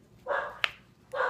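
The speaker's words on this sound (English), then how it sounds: "and the dog's barking." A dog barks twice nearby during a hose repair, two short clear barks about a second apart with a sharp snap between them, no talking.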